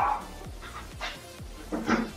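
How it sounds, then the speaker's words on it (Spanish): A dog barks indoors in a few sharp, separate yelps spread over two seconds, close by and moderately loud, with no talking over it. "Ahora se pone a ladrar el perro."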